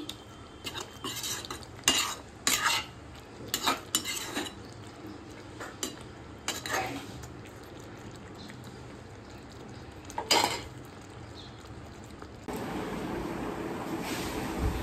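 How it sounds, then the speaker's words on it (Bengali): A spoon stirs ghee and garam masala into a prawn, potato and papaya ghonto, making intermittent metallic clinks and scrapes against the pot, followed by a soft, steady background hiss. "দিয়ে আমি ভালোভাবে সমস্ত কিছুর মধ্যে ঘি আর গরম মশলার গুঁড়োটা মাখিয়ে নিচ্ছি"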